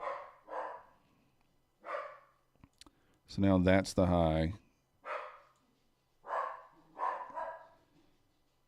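A pet dog barks at pest control workers spraying outside, two loud close bursts of barking in the middle while someone talks before and after.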